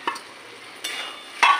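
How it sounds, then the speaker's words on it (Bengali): Fried potatoes being stirred into a spice masala in a pan, quiet low sizzle punctuated by three scraping stirs, the last one loudest and close. "এবার আমি এর সাথে ভাজা আলুগুলো অ্যাড করছি"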